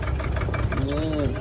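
Tractor engine chugging steadily while hauling supplies up the mountain route to Kedarnath, a continuous loud low rumble with knocking, voices faintly mixed in.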